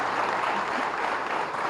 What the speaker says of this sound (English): can we have a big, big round of applause once again?